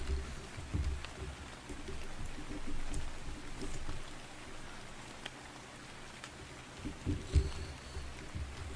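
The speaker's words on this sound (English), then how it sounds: "it is always lovely to hear the rain" Steady rainfall in the survival game Ark Survival Evolved, a soft continuous patter of drops at moderate distance, with a few louder splashes, heard alone without talk.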